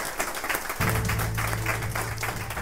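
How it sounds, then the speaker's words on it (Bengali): A group claps for barber trainees at a training session, a dense burst of applause running throughout, joined partway by a steady low hum. "একটু জোরে হাততালি দিয়ে"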